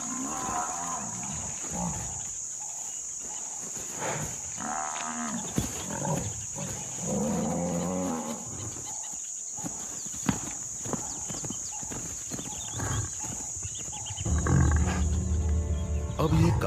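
Buffalo in a herd clash with their old leader, low grunts, bellows and hoof scuffles sounding at close range, with a narrator speaking over it and the commotion growing heavier near the end.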